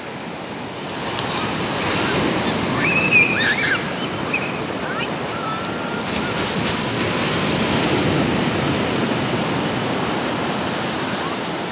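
Ocean surf rolling onto Praia da Armação beach in Penha, Santa Catarina, a steady broadband wash of breaking waves with some wind, continuous and moderately loud from nearby, with no talk.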